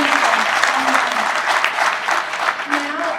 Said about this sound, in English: How about another round of applause for all of the amazing